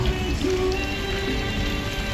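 Heavy monsoon rain falls in a steady, dense wash that stays constant throughout, with a low rumble underneath.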